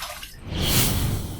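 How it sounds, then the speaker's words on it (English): Water running and splashing while a razor and face are rinsed after a first shave pass, a continuous close wash of trickling and dripping that swells midway. "First pass done, let's rinse."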